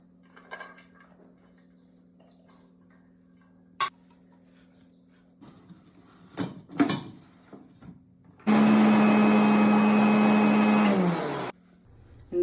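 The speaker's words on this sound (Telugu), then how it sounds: "తెల్లగడ్డలు, పుదీనా వేసి మిక్సీ కొట్టుకుందాం." A mixer grinder blends garlic, mint and ginger. It bursts on loudly for about three seconds with a steady, harsh whir and then cuts off. Crickets chirp and scattered handling knocks come before it.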